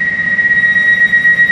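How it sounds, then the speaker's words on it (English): Elizabeth line train in London heard from inside a carriage, a steady loud rumble with a persistent high whine running throughout, no talking. "so I'm on the Elizabeth line to"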